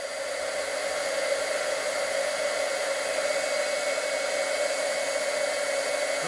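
A heat embossing tool blows continuously during Christmas crafting, a steady, fairly quiet whooshing hiss like a small hair dryer that holds an even tone throughout.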